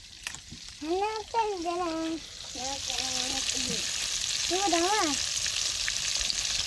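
Chicken frying in a pan gives a steady, close sizzling hiss throughout, with people talking over it.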